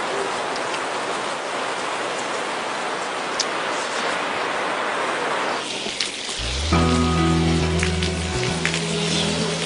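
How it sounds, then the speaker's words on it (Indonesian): Steady rain falls hard for about six seconds as a broad, even hiss, then musical tones with a low rhythmic pulse come in over it. "Semoga hujannya nggak lama."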